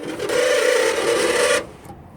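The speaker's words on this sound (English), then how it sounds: "using the switch, I can make the window go back down" A 1986 Chevy driver's side power window motor hums and grinds steadily as the window slides down slowly, with a gritty rubbing tone, then cuts off abruptly into near silence.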